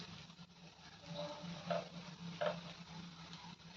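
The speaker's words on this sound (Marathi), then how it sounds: "एकसारखं हलवून घ्यायचं आणि ह्याच्यामध्ये आता बारीक चिरलेली कोथिंबीर घालून घेऊयात" Egg bhurji with chopped coriander stirred in a pan: soft scraping and a faint sizzle, with a couple of brief louder scrapes, quiet and close, alone.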